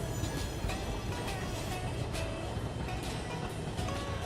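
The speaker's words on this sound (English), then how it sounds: "Those freight car sounds are not bad" Freight cars rolling through a rail yard in the Railworks train simulator game, a steady close rumble of wheels and car bodies with faint periodic clunks, no talking.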